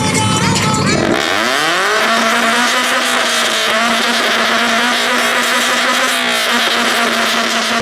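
A Nissan S15 car engine revs hard at a rev battle, then drops and holds a high steady whine, with crowd noise and voices underneath.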